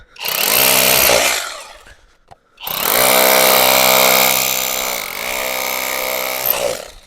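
A loud ELTOS PA-20/26DFR BL cordless rotary hammer chisels into concrete in two long bursts with a short pause between, harsh and close.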